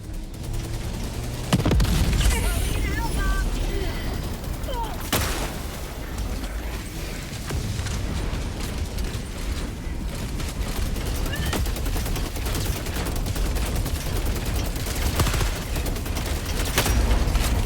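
Gunfire in the Helldivers video game, with dense, sustained battle noise and sharp louder cracks near the start, holding steady and loud throughout.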